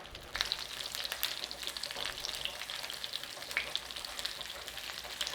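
Bratwurst sausages fry in a pan with a steady, fairly quiet sizzle and small scattered pops and spits, close and continuous with no voices.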